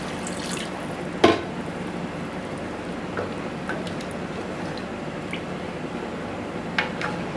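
Water poured into a pan of fried potatoes and boiled eggs for a potato-and-egg curry, with soft splashing and dripping over a steady kitchen background and one brief louder splash near the start.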